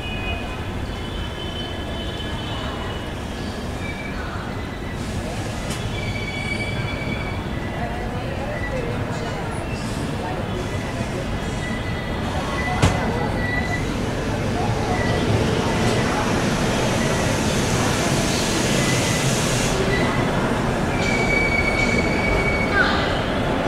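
The Rajdhani Express pulls into Vadodara Junction, wheels squealing loudly on the rails over a steady rumble and clatter of passing cars, with platform noise throughout.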